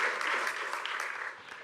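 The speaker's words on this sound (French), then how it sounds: "j'ai vu que vous aviez attendu un peu avant d'applaudir" An audience at a live corporate graduate-program event claps in a steady, dense burst of applause throughout, loud and close.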